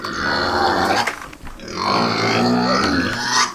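Deep, rough grunting and snorting from pigs, continuous and close, with overlapping snuffles and throaty noises.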